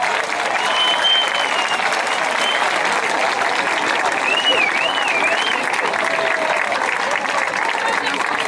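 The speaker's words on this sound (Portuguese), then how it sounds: "Mais uma grande salva de palmas para eles." A large crowd at a São João festival march parade in Esposende, Portugal claps steadily and loudly throughout, a dense continuous wash of applause with a few whistles rising over it.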